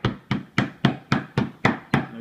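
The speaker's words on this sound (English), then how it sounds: "And the idea is to hammer them flat." Eight regular, heavy whacks of a meat tenderizer flattening schnitzel cutlets, one after another at a steady pace, near and without speech.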